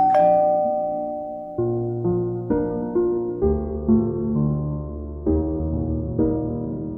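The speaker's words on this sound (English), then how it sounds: "I will ring the doorbell" An animated cartoon doorbell chimes a melodic sequence of ringing notes, each tone sounding clearly and fading before the next, with no voices.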